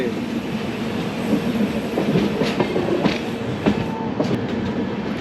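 A passenger train runs steadily along the rails, its continuous rumble broken by repeated clickety-clack wheel beats over rail joints, loud and close as if heard from aboard.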